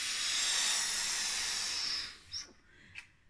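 Air rushes out of the balloon on a homemade CD hovercraft through its opened valve, a loud, steady hiss for about two seconds that cuts off abruptly, followed by a couple of faint, brief hissy puffs.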